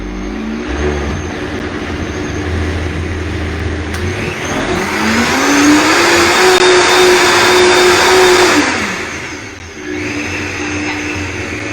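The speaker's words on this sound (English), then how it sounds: "Blender, it's very loud." A loud kitchen blender purees a creamy garlic cauliflower sauce, its motor whining at a steady pitch, ramping up to a higher, louder roar for several seconds, then dropping back down as the blending slows.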